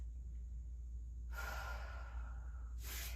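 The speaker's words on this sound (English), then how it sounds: "Take another full breath." One full, deep breath taken during a yoga flow, a soft, close inhale followed after a short pause by the start of a breathy exhale, quiet against a low background hum.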